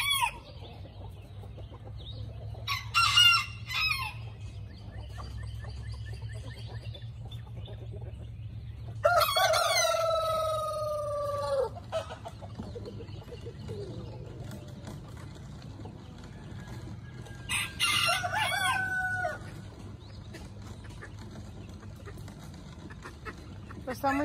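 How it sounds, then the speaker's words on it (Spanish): A rooster crows in a farmyard corral near chicks, its calls rising loudly above a steady low rumble, with people talking at moments around the crowing and other fowl faintly in the background. "Pues miren, ya el gallo le va a dar su bienvenida."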